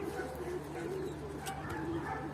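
Pigeons coo softly in a coop in low, repeated rolling calls, several birds overlapping at close range against a faint background hum.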